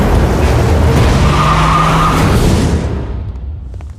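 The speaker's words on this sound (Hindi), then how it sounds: "गाड़ी निकालो जल्दी" A car pulls away in a hurry with loud tires skidding and squealing, a continuous close rush of engine and tire noise that fades slightly toward the end.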